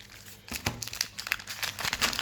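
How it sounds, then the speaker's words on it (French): A plastic wrapper on a Dragon Ball collectible card pack crinkles and crackles up close as the pack is turned over, in a run of uneven, scratchy bursts with no talking. "Donc, on va retourner ce package."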